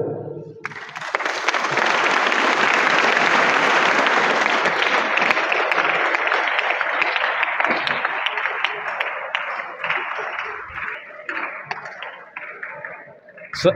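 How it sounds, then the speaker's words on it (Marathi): A crowd at a government industrial training institute bursts into loud, sustained applause that swells quickly, then gradually thins out and fades over many seconds. "मग शासनासाठी एकदा टाळ्या होऊ द्या"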